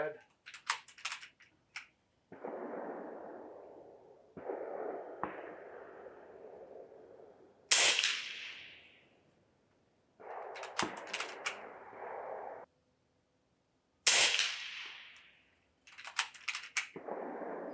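FX Impact M3 air rifle shots fired at a 50-yard benchrest target, several sharp, close cracks spread across the clip, each with a quick decaying tail, separated by stretches of ambient noise.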